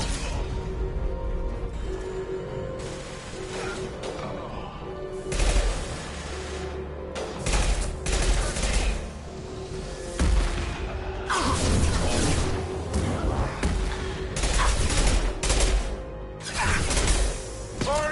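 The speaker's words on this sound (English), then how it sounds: "Firing concussive shot!" Gunfire and explosions in the video game Mass Effect 2, a dense, continuous battle of rapid shots, booms and crashes filling the whole stretch at steady high loudness.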